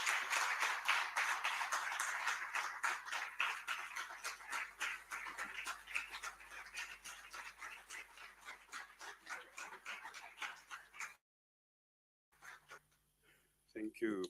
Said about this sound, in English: Can you please give him a round of applause as he comes to the front?